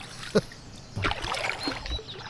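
A kayak paddled through water on a breezy outing among gnats: a soft, close dip and swish of the paddle, then a low, continuous wash of water lasting a second or so.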